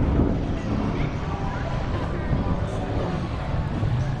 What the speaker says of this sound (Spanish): Allá viene la lancha de nuevo.